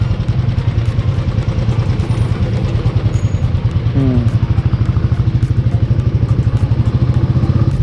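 A motorcycle engine throbs steadily and loudly close by while the bike is ridden up a hill-station road, with a dense low pulsing rumble throughout.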